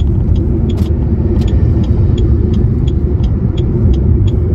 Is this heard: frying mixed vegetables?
no